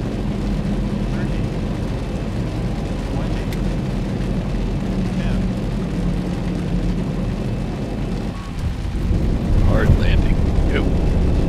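A Boeing 737-900 deploys its thrust reversers while landing after a stormy crosswind approach in the X-Plane 11 flight simulator, a steady loud roar that swells heavier toward the end.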